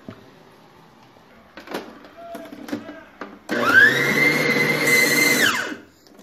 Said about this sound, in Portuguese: vou colocar na batedeira para bater